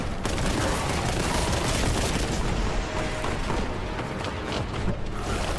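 Gunfire from the Warhammer 40,000 Boltgun shooter game, a dense, loud, continuous barrage of rapid shots and booms filling the whole clip without pause.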